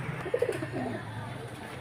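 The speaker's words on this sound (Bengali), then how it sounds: "যে আরেকজোড়া পায়রা দেখুন" A pigeon coos close by in a short run of three soft notes, then quieter murmuring over a low hum.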